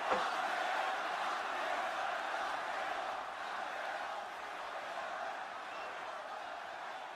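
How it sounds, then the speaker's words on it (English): Large wrestling arena crowd at Friday Night SmackDown booing Cody, a dense sustained roar of jeering voices that starts loud and gradually eases slightly, with no clear speech. "So they booed Cody."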